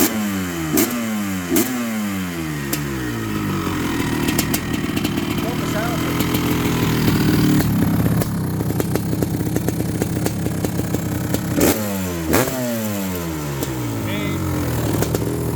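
A Honda CR500 two-stroke dirt bike engine, first started in over 20 years, revs repeatedly, rising and falling in sharp bursts, loud and close, with a steady idle rattle between revs.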